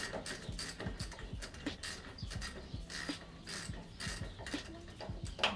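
Ratchet loosening a Brembo brake caliper bolt, a quick run of close, faint clicks ticking steadily as the handle swings back and forth.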